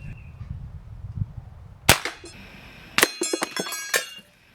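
A .177 Beeman 1330 Raider PCP air rifle fired from a bench rest sends a pellet into a can: a sharp crack followed by metallic clinks and rattles as the can tumbles, with a few more tinny knocks afterward, close and fairly loud.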